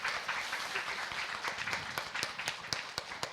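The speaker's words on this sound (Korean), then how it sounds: "큰 박수 부탁드리겠습니다." An audience at a Korean workplace talk-concert applauds a speaker, dense clapping that thins into a few louder, distinct claps toward the end.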